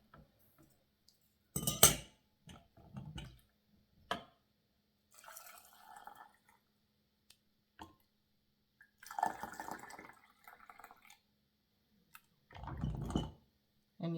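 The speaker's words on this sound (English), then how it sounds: "And then we're going to start filling our jars." Chicken bouillon poured into glass canning jars for borracho beans, with several bursts of liquid splashing and filling, light glassy clinks and drips between, close and fairly quiet.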